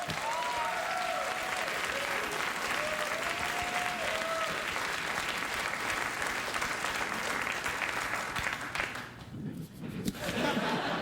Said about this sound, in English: I think the audience just started clapping